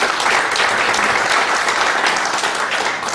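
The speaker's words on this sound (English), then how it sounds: "a round of applause for" Audience applause at a cooperative society workshop, honoring a session speaker; steady, dense clapping from a sizeable crowd fills the whole stretch at even loudness without pause.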